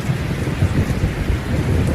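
Steady heavy rain pours down with low rumbling thunder rolling underneath, a dense continuous wash of storm noise with no voices.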